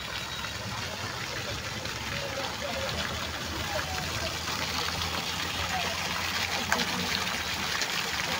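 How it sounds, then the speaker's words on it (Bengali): A water fountain in a decorated park gives off a steady, close splashing and trickling wash that stays constant throughout, with voices mixed in. "জলের ফোয়ারাটি খুব সুন্দর লাগছে।"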